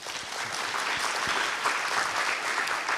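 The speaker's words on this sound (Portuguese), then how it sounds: "Palmas, por favor" Audience applause after a debate at a conference session, a steady wash of clapping from many hands that holds evenly throughout the short stretch.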